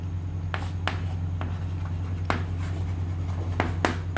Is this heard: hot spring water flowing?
no